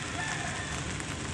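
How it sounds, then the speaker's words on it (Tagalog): Heavy rain falls in a dense, constant hiss of drops beating on surfaces, loud and unbroken for the whole moment. "Lakas ng ulan."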